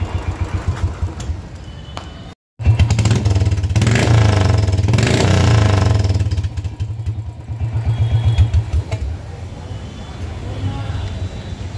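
A motorcycle engine with a silencer fitted starts up and runs as a steady, muffled low drone that rises and dips with light revving, while people talk over it.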